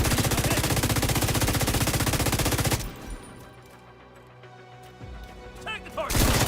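Sustained light machine gun fire in a shooter video game, a rapid, loud, unbroken stream of shots for a few seconds, then quieter game sounds and a brief voice before another loud burst.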